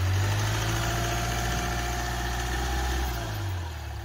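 A Hyundai i20 Asta CRDi diesel engine idles steadily with a low, even rumble and hum, close by, easing slightly quieter near the end.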